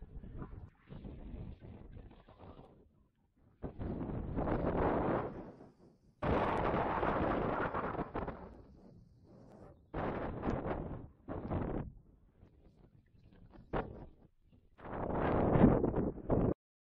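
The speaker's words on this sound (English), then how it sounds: "Super windy, so super cold." Strong wind buffets the microphone atop an open, windowless fire tower on Lyon Mountain in the Adirondacks, coming in loud roaring gusts separated by brief lulls.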